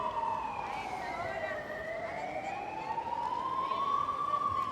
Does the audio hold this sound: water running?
no